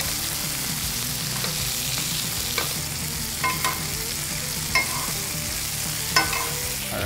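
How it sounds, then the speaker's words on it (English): Steak searing in a hot pan for steak au poivre, a loud steady sizzle and crackle throughout with occasional scraping and stirring clicks, no talking. "So now that we've seared off both sides here"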